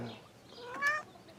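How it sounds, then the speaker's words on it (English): A single short cat meow sounds near the end, faint but clear over a quiet background, with no talking. "The cat is mine."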